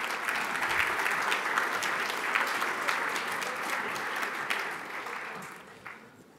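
At a conference opening ceremony, an audience gives steady applause as a panel walks on stage, the clapping holding evenly before thinning out and fading near the end.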